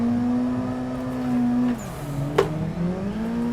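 A race car in the Assetto Corsa driving game holds a steady engine drone while warming its tires. The engine drops in pitch partway through, then climbs again, with a brief sharp noise in the middle.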